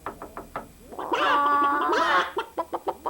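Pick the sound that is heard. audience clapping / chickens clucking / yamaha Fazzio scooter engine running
chickens clucking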